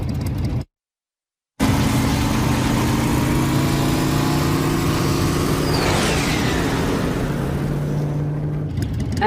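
A motorcycle engine in an anime, a steady mid-pitched drone with a brief cut near the start, then a continuous run with a shifting pitch sweep partway through.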